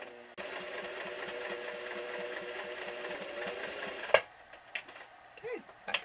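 A sewing machine runs steadily, stitching quilted fabric for a scrappy clothespin bag, its even mechanical whir holding for about four seconds before stopping abruptly, followed by a few small clicks and handling sounds.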